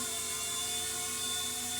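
An MD500 model radio-controlled helicopter, just repaired, flies nearby with a steady, high whining rotor and motor drone that holds constant throughout, with no voices.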